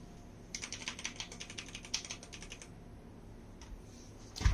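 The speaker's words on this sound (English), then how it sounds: "I'll just put my mic so that you can hear the sound of the key." Keys clatter in a quick run on a KREO Hive RGB wired gaming keyboard with red switches, close-up, then pause before a couple of isolated presses near the end.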